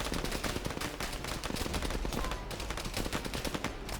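Dense, continuous gunfire in the military shooter game Arma 3, rapid rattling bursts of rifle and machine-gun shots aimed at the player, loud and unbroken with no voices.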